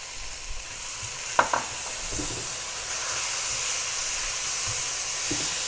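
Pinto beans and chopped onion frying in a pan while being stirred, a steady loud hiss and sizzle throughout with a few faint scraping knocks near the start.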